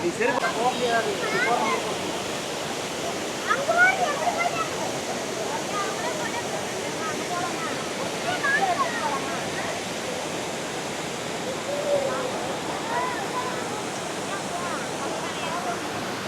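Kandhanpara waterfall in Wayanad, Kerala, swollen and muddy after rain, roars as a steady broadband rush of falling water that stays loud throughout, with people talking faintly underneath.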